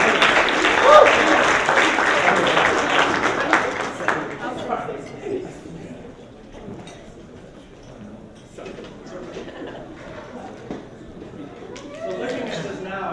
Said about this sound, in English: let's give a warm round of applause for the parents of the bride, Mr. and Mrs. Bart and Kyle Willis.